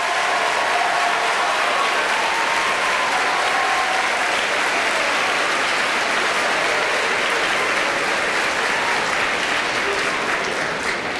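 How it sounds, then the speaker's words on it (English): A high school audience at Maury High School gives teachers a sustained round of applause, with many hands clapping in a thick, even roar that holds steady and loud for the whole stretch. "let's give them a round of applause and thank them for all their hard work"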